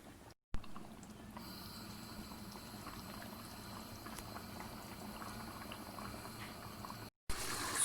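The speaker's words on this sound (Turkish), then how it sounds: "Kısık ateşte pilavımızı kaynatıyoruz" Rice bubbles and simmers steadily in a pot on low heat, with soft, continuous gurgling and popping, close up and without speech.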